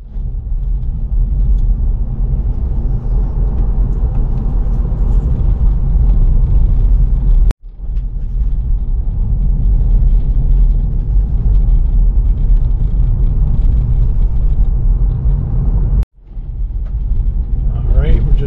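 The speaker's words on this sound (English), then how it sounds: "Heading out of town now and hitting the highway speeds." A Tesla Model 3 cruising at highway speed on a cold northern British Columbia road gives a steady, loud rumble of tire and road noise throughout, with two brief dropouts.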